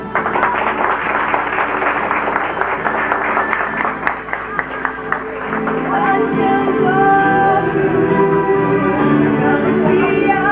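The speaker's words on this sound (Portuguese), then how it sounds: "Peço a todos um aplauso." Audience applause at a theology graduation ceremony: dense, steady clapping from a large crowd fills the hall, with tonal music-like sounds rising beneath it in the second half.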